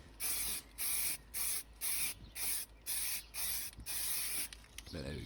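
Spray can laying a primer coat onto an alloy wheel outdoors in windy conditions, eight or nine close hissing bursts of about half a second each in a steady rhythm, with faint wind rumble after.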